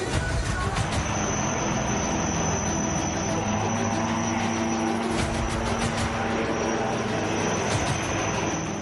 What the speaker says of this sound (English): India's light combat aircraft Tejas